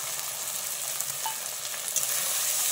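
Water splashed into frying spice paste in a pan hisses and spits, a loud close sizzle holding steady and brightening slightly toward the end.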